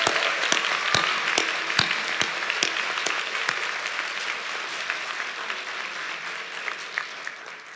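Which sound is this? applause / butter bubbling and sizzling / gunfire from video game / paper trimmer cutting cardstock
applause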